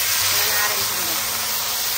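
Beef dropped into hot Mongolian beef sauce in a pan sends up a steady, close, loud sizzle, a dense hiss that holds evenly throughout.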